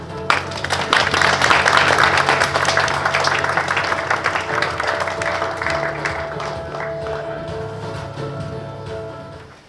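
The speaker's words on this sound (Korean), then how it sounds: "의원님을 여러분의 따뜻한 박수로 무대 위로 모시겠습니다" At an international security and peace forum in Pyeongtaek, an audience gives sustained, even applause as a lawmaker comes to the stage. The clapping is steady over a faint steady hum and slowly thins out toward the end.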